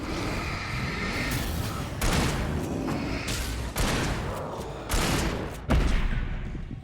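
Gunfire in Alan Wake on Nightmare difficulty: several loud, close shots rip out one after another at irregular intervals, each with a booming, reverberant tail over a continuous rumbling game soundscape.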